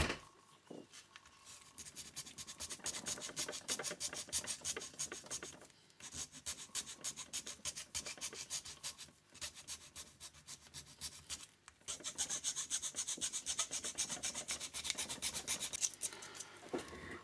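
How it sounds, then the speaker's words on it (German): A hand file rasps along the edges of a modified Nerf BASR-L sniper blaster, steady back-and-forth strokes in long runs with a few short pauses, close and moderately quiet. "wir haben unsere Feile."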